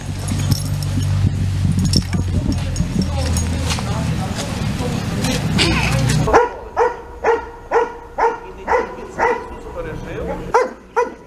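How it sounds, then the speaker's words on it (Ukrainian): Search dog barking during a training search in Ternopil region, a run of about ten sharp, evenly spaced barks close by, following a stretch of busy outdoor noise and talk. "Зараз ми зробимо тренувальний пуск для того, щоб ви побачили, як працює собака в реальних умовах."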